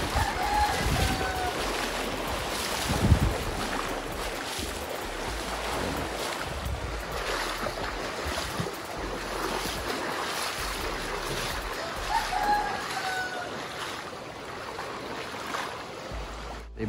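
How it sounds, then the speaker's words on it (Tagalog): Steady broadband rush of churning water, loud and continuous with a low rumble underneath, like fast-moving current streaming past nearby. "bilis ng ragasan ng tubig yung partner."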